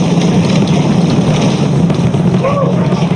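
SpaceX Starship booster firing all 33 Raptor engines during flight over the Gulf, heard as a loud, continuous, roaring rumble with a windy texture, steady throughout.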